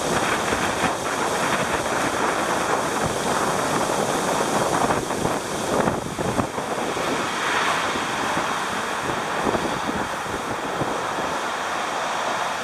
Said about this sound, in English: boy, it's windy out here.